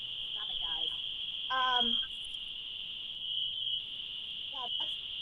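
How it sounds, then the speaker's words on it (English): Cicadas buzzing as a loud, continuous high-pitched drone that runs unbroken throughout, while people's voices come and go in short bursts over it. "you need to turn those cicadas down a little bit there, Morgana."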